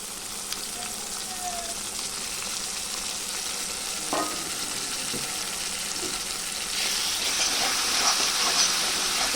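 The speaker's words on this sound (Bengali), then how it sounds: "ভালো করে কষতে নেব তো ভালো করে কষতে নিয়েছি" Tengra fish and eggplant curry sautés in a pan with a steady, close frying sizzle and hiss that grows brighter and louder toward the end, with occasional light stirring clinks.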